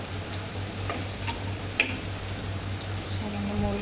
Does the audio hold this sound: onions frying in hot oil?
yes